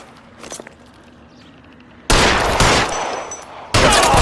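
Loud bursts of rapid gunfire erupt in L.A. Noire Remastered, one long dense volley followed by a brief pause and another burst, after a quieter stretch of faint background sound.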